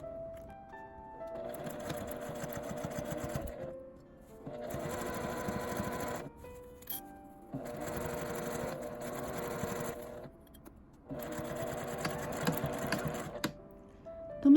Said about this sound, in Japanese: 印から印までファスナーの端を縫います。